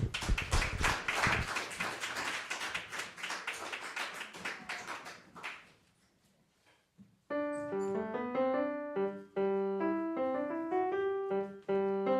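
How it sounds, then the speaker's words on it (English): A student-recital audience at a music school performathon claps for several seconds, fading into quiet before piano notes begin. "Round of applause for Winnie."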